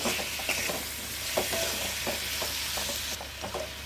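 Salt and turmeric stirred into a chickpea curry in a pan: a spoon scrapes in short, uneven strokes over a steady, close sizzle, with no talking.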